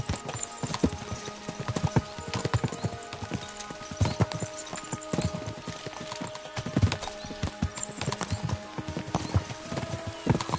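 Hooves clip-clop rapidly and unevenly as several horses gallop close by in the video game Kingdom Come: Deliverance II, with an occasional whinny, no talking.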